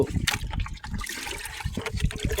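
Water splashes and gurgles into a container in short, uneven gushes, close by and moderately loud.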